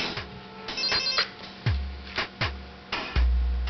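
A phone rings in a comedy stage production, repeated electronic ringtone bursts with short pauses, fairly close and clear with no talk over it.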